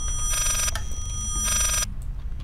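A telephone rings in the horror video game Layers of Fear: two loud bursts of a bright electronic bell, each lasting under half a second and separated by a short gap, over a low droning background.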